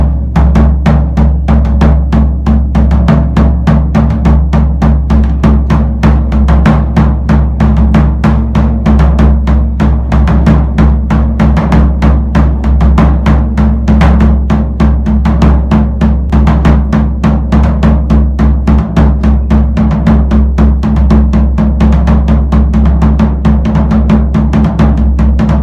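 Congado drums beat a dense, driving rhythm with an extra dominant-hand hit closing each phrase, loud and continuous with strong low booms and sharp attacks throughout, no voices.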